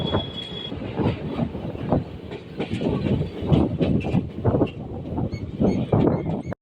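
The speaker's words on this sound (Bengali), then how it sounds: "আমাদের ট্রেন এখন চলে আসলো" A passenger train rolls past on the rails on the Katwa–Ahmedpur line in India with rhythmic clickety-clack and rumbling, loud and close, with a faint high squeal at times.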